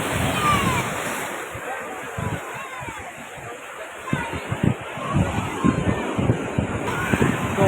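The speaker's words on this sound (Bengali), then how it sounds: "এখন সমুদ্রে জোয়ার আছে, জল একদম উপরে উঠে এসছে।" Sea waves rolling in at high tide on Digha beach, a broad continuous wash of surf with wind noise across the microphone and faint voices of people nearby.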